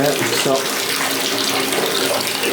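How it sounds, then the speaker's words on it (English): Water drains steadily from a bathtub in an apartment after the clog is cleared with a snake cable, making a continuous close gurgling rush as a voice speaks briefly. "you guys can see the water's going down."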